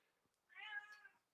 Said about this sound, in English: now she just walks around going, meow, meow, meow.